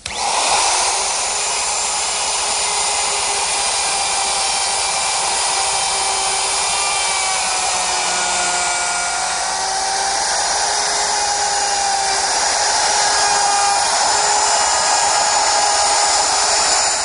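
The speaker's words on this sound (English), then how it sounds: "I'm going to use my router with a collar and a straight cutting bit" A wood router with a guide collar and straight cutting bit cuts a rabbet in wood while building a tall pine clock, giving a loud, steady high-pitched whine that runs unbroken and close throughout, with no talking.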